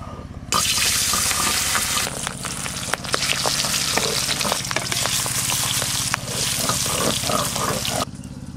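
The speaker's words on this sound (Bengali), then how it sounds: "এবার মাছগুলো খুব ভালো করে ভেজে নেব।" Pieces of boal fish fry in hot mustard oil with a steady, loud sizzle and crackle that runs nearly the whole time, with scattered sharp pops and brief dips in intensity.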